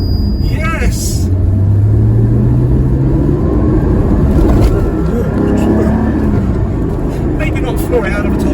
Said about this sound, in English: Maybe not floor it out of a toll booth in the wet when there's a little hump in the road